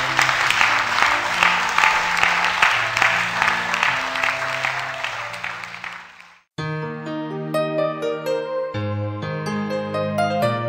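A church congregation claps and cheers in praise, a loud sustained wash of applause with voices, which fades out around six seconds before musical tones take over.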